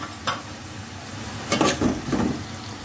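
Curry leaves and green chilies hitting hot oil in a pan, giving a brief crackling sizzle with a few louder bursts over a steady low frying hiss, close and moderately loud.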